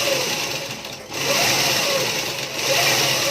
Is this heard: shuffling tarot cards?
no